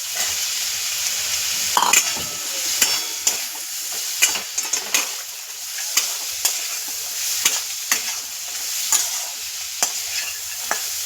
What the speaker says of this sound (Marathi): गवार व्यवस्थित 2-3 मिनिटं परतून घ्यायची